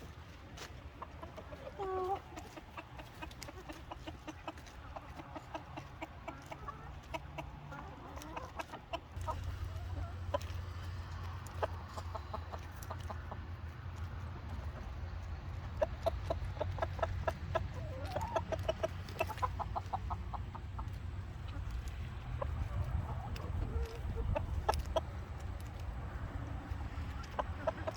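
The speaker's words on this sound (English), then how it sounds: "My neighbors give us all of their garden scraps as well, and kitchen scraps to give to the chickens." Backyard chickens cluck and murmur close by while being fed garden and kitchen scraps, soft continuous clucking with occasional sharper calls and rustling, a brief spoken exclamation early on.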